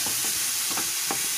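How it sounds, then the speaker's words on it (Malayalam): Puliyogare (tamarind rice) spice powder stirred in a pan over lowered heat, giving soft repeated scraping strokes with a faint sizzle, close and steady, with no talking. "നമുക്കിതിലേക്ക് ഈ പുളിയോഗരയുടെ പൊടി മിക്സ് ചെയ്യാം"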